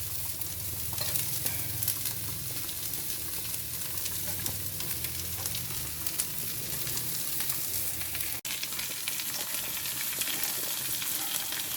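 Chopped Brussels sprouts frying for a curry, with a loud, continuous sizzle and dense scraping of a utensil stirring through the pan, heard alone.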